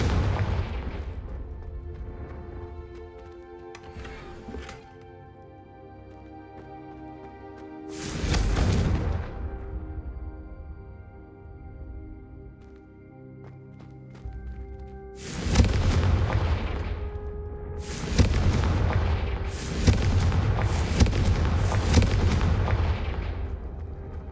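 Confringo fire-blast spell cast in the video game Hogwarts Legacy, heard as a series of loud, broad booming explosions, a few spaced bursts early and then a rapid cluster of blasts toward the end, over a low game soundscape.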